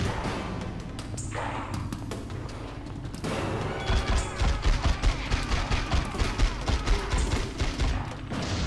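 Rapid bursts of gunfire crack and thud in quick succession, building into a steady rhythmic volley, loud and close with a busy game-like backdrop, in the video game The X-Files: Resist or Serve.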